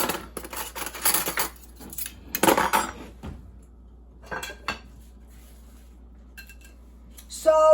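Metal cutlery clatters and jangles in a kitchen drawer as someone rummages for a spoon while making cheap tacos. Several loud clattering bursts come close by, with quiet gaps between them and a brief clink near the end.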